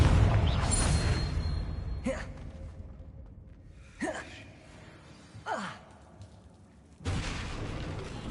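A Confringo fire spell bursts in Hogwarts Legacy during a spider fight, with several sharp blasts cracking out over a busy, rumbling game background, then a louder surge at the end.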